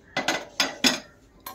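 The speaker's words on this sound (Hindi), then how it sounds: "गैस पे रखेंगे अपना कुकर" A metal pressure cooker set down on a gas stove while mutton is being cooked, giving several close metallic clanks and clinks in a short irregular burst, followed by a single lighter knock.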